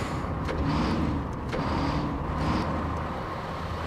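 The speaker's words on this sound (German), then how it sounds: "Ah, das ist ein wirklich schöner LKW. Laut ist der, oder?" A heavy truck in the snowy off-road game SnowRunner runs with a loud, steady engine drone, its low rumble swelling slightly in a few slow waves.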